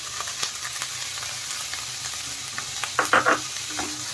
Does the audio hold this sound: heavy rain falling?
no